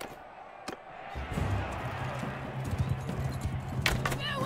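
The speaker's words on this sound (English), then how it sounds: "A horse!" Horse hooves clip-clopping in the video game Mount & Blade 2: Bannerlord, a rhythmic trot that starts after a second of quiet and carries on amid game noise, with a couple of sharp knocks.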